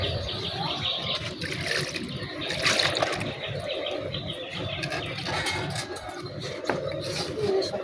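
Tap water runs steadily as potatoes are rinsed in a kitchen, with spicy paste nearby, a continuous close splashing trickle with small clinks throughout.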